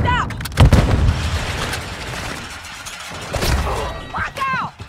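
Gunfire and a grenade blast ring out in the Warzone Mobile shooter game, heavy booming shots and a deep explosion over a crackling battlefield, with a shouted voice between the bursts.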